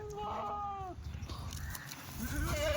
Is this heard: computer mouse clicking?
no